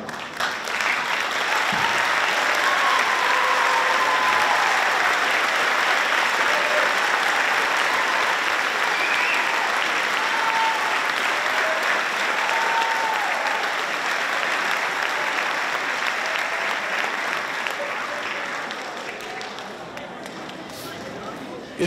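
Audience at an eighth grade graduation ceremony applauding students, a loud, sustained wash of clapping from a large crowd that holds steady for about twenty seconds before tapering slightly, with a few voices mixed in.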